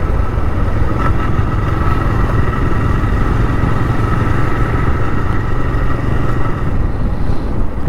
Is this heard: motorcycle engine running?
yes